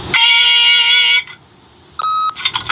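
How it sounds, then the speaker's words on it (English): Answering-machine beep from the game The Wolf Among Us: a loud, steady electronic tone held for about a second, then after a pause a second shorter beep, with no voices. "leave a message at the beep and we'll get back to you as soon as"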